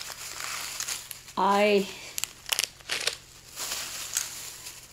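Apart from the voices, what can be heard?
crinkling of packaging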